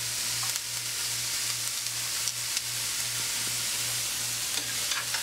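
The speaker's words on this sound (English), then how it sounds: "the onions. We're just going to cook them slightly." Chopped onions sautéing in a pan for Las Vegas-style clams casino make a steady, close sizzle, with occasional soft scrapes of stirring and no talk.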